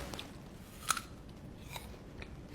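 Someone bites into a fresh toddy palm sprout: a single faint, crisp crunch close by, followed by quiet, soft chewing.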